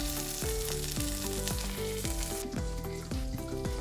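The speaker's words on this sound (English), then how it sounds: "we're gonna fry this tortilla in the pan" A tortilla fries in a hot pan with a steady, close sizzle running the whole time, partly covered by music playing over it.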